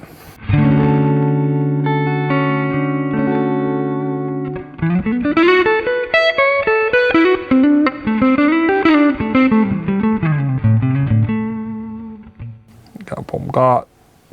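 Electric guitar through the Tweed Deluxe amp model of a NUX Mighty Plug headphone amp: sustained chords ring first, then a melodic single-note run, close and fairly loud, with brief speech near the end.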